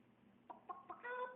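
An African grey parrot imitates a chicken, giving a few short clucks followed by a longer warbling cluck, close and fairly soft against a quiet room.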